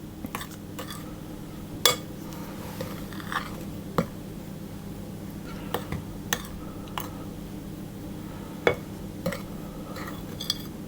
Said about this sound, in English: I'm going to mix that around just to get it combined